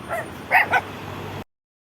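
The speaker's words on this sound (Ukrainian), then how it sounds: "Джина, Джина, и ты гавкаешь, да?" A pet dog named Gina gives a couple of quick, high yipping barks close by in a home, with a little soft whimpering before them and no talking over them.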